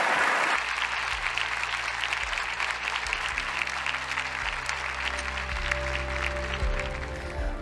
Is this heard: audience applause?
yes